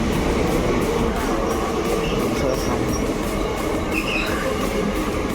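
Mumbai local train on the Churchgate line pulling into Goregaon station gives a steady loud rail rumble and clatter throughout, with faint squeals above it.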